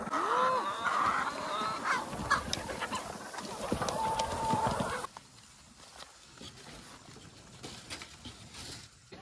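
Chickens on a farm being raised for market cluck and call close by, with scattered footsteps and movement over busy activity, then the scene quiets to softer, sparser sounds in the second half.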